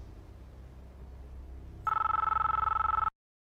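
A telephone rings in a film scene: after a quiet stretch of background hum, one loud electronic ring burst sounds for just over a second, then cuts off abruptly.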